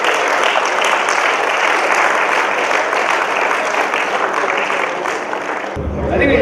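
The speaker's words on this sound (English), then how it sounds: "Give him a big hand." Audience applause for a resident poet at a 94th birth anniversary gathering, steady dense clapping filling the room for nearly six seconds before stopping abruptly.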